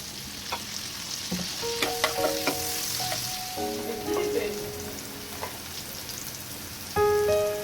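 Fish roe fries in a pan, a soft, steady sizzle punctuated by scattered clicks and scrapes as a utensil flips and stirs it; close and fairly quiet.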